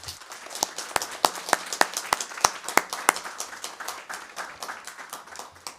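A small group at a board meeting claps and applauds, with sharp individual hand claps standing out over a steady patter that keeps going for several seconds.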